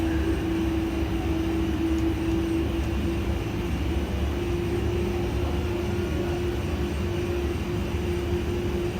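Airbus A300-600 engines spooling to takeoff thrust during the takeoff roll in a flight simulator, a steady, loud jet roar with a sustained tonal whine and rumble, unbroken and without talk.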